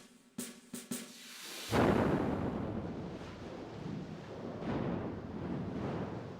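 A few sharp cracks give way to a sudden, powerful dynamite blast that destroys a railway express car, followed by a long, roaring rumble that slowly fades with debris-like noise.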